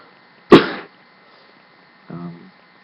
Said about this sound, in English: I've had a cough for a while and I hate it.